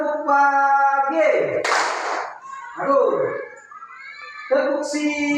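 A children's clapping chant in a classroom lesson: a few separate sharp hand claps and slaps spaced through the clip, close and loud, between stretches of a voice leading the chant.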